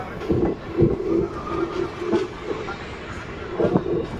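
Porbandar-bound passenger train departing Khakhariya station, with a steady rolling rumble and regular clacking wheel beats over the rails, moderately near and continuous.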